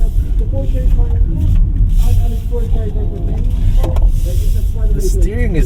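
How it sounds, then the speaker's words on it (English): An MG 3 hatchback drives through a slalom, heard from inside as a continuous engine and road rumble with pitch shifts through the turns, while a person talks over it. "So first, let's take it to the slalom. Let's see how this little hatchback handles."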